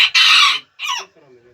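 Rooster and hens at a large poultry farm keeping fancy, layer and Australorp birds, giving a loud close burst of clucking and squawking, then a shorter call and softer clucks trailing off.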